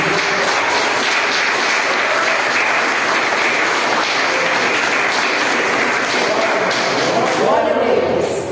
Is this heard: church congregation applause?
yes